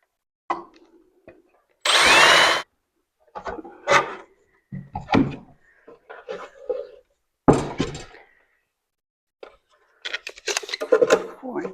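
A power drill drives screws into a wooden five-frame nuc box for bees, with a loud burst followed by shorter whirs and knocks, and brief talk in between.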